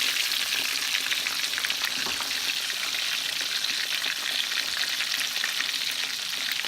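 Chicken fried steaks fry in a pan with a loud, dense, continuous crackling sizzle that holds steady throughout, close and without any talking.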